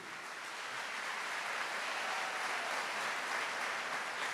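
A church congregation at a Catholic Mass bursts into broad, continuous applause, a dense wash of many hands that holds evenly throughout without any speech.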